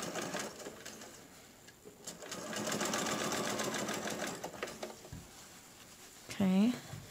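A sewing machine stitches a single-layer seam on a fabric face mask, its rapid needle chatter running in bursts with brief pauses, close by and moderately loud.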